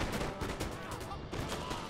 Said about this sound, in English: Over here you're going to see these guys fire off a nice volley